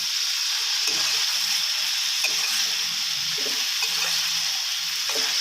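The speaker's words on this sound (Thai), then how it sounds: "แล้วก็ผัดคลุกเคล้าไปให้ทั่วนะครับ" Bell peppers and onion stir-fried in a hot pan give a steady, close sizzle with scraping stirs of a utensil scattered throughout, no voices.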